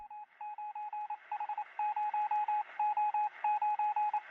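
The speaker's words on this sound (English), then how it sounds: "Within a year, Hings had a company plane tapping Morse code to a telegraph station in Nelson" Morse code tapped out by radio from an early company plane to a telegraph station in Nelson: a steady run of clear, evenly pitched beeps in short and long bursts, sounding alone and close.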